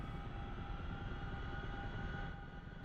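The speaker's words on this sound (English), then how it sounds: "we're going to roll these 2 levers down so they're in flight mode, which you'll hear the RPM increase" Helicopter engines and rotor in DCS World spooling up as the levers go to flight mode, a loud steady turbine whine with a constant droning hum, close and continuous, no speech.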